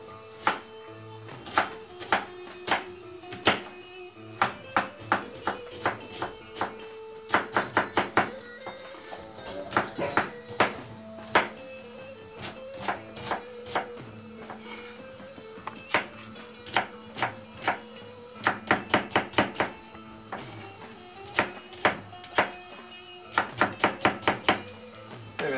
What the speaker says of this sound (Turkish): biz de soğanı doğrayalım